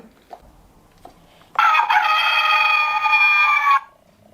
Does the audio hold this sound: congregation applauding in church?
no